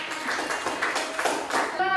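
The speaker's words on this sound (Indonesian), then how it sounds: "tepuk tangan buat teman-teman" Children clapping for their classmates in an Islamic classroom lesson, a brief burst of scattered hand claps under a teacher's voice speaking over them.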